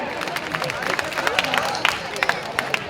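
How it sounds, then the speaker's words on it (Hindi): Scattered applause from a crowd at a Republic Day children's dance event, uneven claps over a murmur of chatter, moderately loud and fairly close. "एक बार जोरदार ताली हो जाए"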